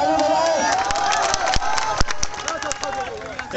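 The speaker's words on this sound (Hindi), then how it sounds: "आप लोग अपने माँ के लिए ताली बजाएं।" At a stadium trial-running event, a crowd makes loud noise with sharp claps scattered through it, while voices and the sound of people moving about fill the background.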